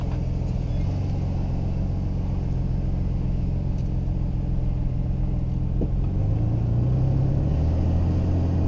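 A 2005 Ford Ranger pickup idles with a steady low engine rumble, then picks up slightly toward the end as it pulls away gently, heard close and continuous with no talking.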